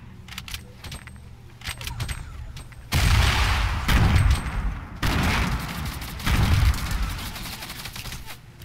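Rapid automatic gunfire in Fortnite as players get shot, coming in loud, long bursts separated by brief pauses after a quieter stretch of lighter shots at the start.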